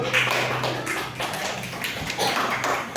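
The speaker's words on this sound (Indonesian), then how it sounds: "Silakan tepuk tangan untuk kelompok Brussel" Children in an Indonesian sixth-grade classroom clap for a student group in a dense burst of applause lasting several seconds.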